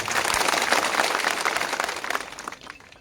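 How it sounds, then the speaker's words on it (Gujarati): A crowd at an outdoor political rally on a village cricket ground in Rajpur, Zalod, claps loudly and steadily, a dense wash of applause that holds for a few seconds before thinning out at the end. "બધા જ માટે આપણે એકવાર જોરદાર તાળીઓ પાડી લઈશું"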